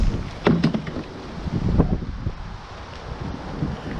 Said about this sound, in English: Sorry about the wind, it's blowing a hoolie here.